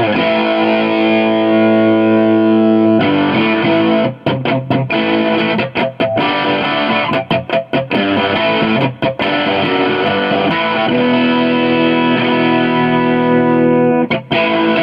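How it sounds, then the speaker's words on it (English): Electric guitar through a Moose Customs Electronics heavy fuzz distortion pedal, thick and saturated, chords ringing loud and continuous with brief choppy breaks, no voice. "Most people know it for kind of almost fuzzed out heavy distortion"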